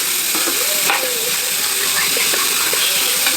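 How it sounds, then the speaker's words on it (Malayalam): Carrot and beetroot sautéing in hot sesame oil, a steady close sizzle and hiss with occasional stirring scrapes, faint background voice. "നന്ന് ചൂടായി വരുമ്പോൾ ഈ വെജിറ്റബിൾസ് അതിലേക്ക് ഇട്ട് നന്നായി വഴറ്റിയെടുക്കണം"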